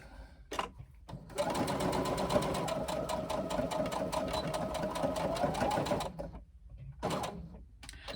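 A sewing machine runs in one long steady burst of rapid stitching along a bag pocket hem, close and loud, with short stops and restarts at either end.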